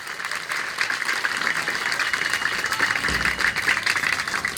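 A crowd applauds in tribute to the martyrs at a 16 August gathering, a dense, steady wash of clapping that holds evenly throughout with no voices breaking through.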